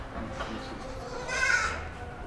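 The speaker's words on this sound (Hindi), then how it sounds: "इसके अंदर भी BIV बकरियां हैं और उनके बच्चे उस छोटे केबिन के अंदर हैं" Totapari goats and their kids bleating inside a farm pen cabin, a single wavering bleat rising out of a steady murmur of barn noise.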